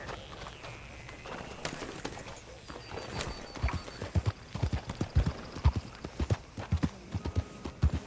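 Horse hooves clip-clop on a road in the Red Dead Redemption 2 video game, a rhythmic run of hoofbeats growing louder and closer, with a brief whinny and faint background sound.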